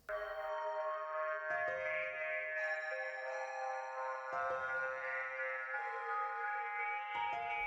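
Calm video game music for the non-confrontational state of a Unity shooter plays steadily, with sustained tonal chords and soft notes that shift every couple of seconds.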